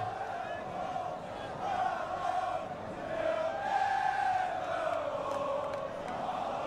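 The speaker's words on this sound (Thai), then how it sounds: "เป็นเสียงโห่ร้องของกองเชียร์ลิเวอร์พูล" Liverpool football supporters roaring and chanting as a crowd, a dense sustained mass of voices swelling in waves with a rough sung melody, steady and loud throughout.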